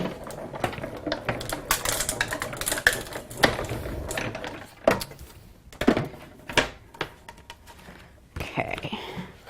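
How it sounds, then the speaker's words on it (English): A card being run through a platinum die-cutting machine makes a series of irregular clacks, thunks and ratcheting knocks from a hand-cranked mechanism, close and fairly quiet, with no talking. "give that a quick run through our platinum machine"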